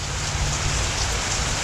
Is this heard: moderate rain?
yes